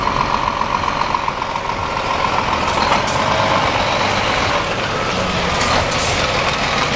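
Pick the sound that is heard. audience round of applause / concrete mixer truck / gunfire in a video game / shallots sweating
concrete mixer truck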